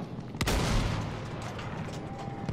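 Gunfire in a combat zone, a sharp loud shot near the start followed by a sustained rumbling burst of fire and distant reports continuing throughout.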